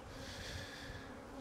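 Honey bees buzzing steadily at an open hive during a commercial beekeeping inspection, a dense continuous drone of many wings close by with no talk over it.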